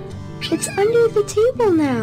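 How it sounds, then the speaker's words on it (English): A cat meows close by, with several rising and falling cries that overlap a person speaking in a house room. "Oh, there is a cat here."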